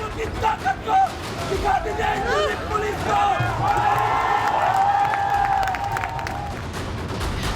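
Protest crowd at JNU in Delhi being stirred up by a student standing on a wall, a dense roar of shouting voices and cheers swelling steadily, with chanting rising over the babble.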